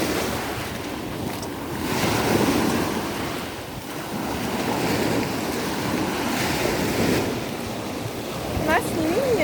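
Black Sea surf rolls and washes continuously along the shore, loud and close, with gusts of wind buffeting the microphone throughout.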